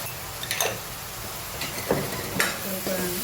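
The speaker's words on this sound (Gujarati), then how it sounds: "સોતે થવા દઈએ, પછી બીજા રૂપે મસાલા કરીએ" Turmeric and salt sautéing in a hot pan, a continuous sizzle broken by a few sharp scraping stirs of a spoon against the metal, close and fairly loud.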